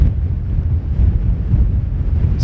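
Strong wind blasts across an exposed cliff top, battering the microphone with loud, continuous low rumbling gusts.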